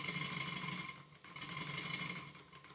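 A model steam engine runs steadily in a workshop, giving a fast, even mechanical chuffing and whirring with a brief dip in level before settling back into its rhythm.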